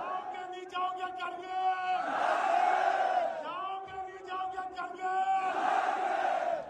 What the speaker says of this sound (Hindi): सड़कों पर सैकड़ों हजारों नहीं बल्कि लाखों की भीड़ उमड़ रही है।